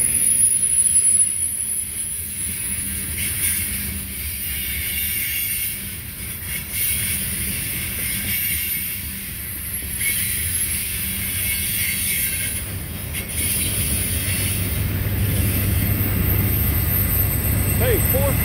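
Norfolk Southern freight train rolls steadily past near Chattanooga, a continuous loud rumble of wheels and railcars with occasional squeal, a voice talking over it at times.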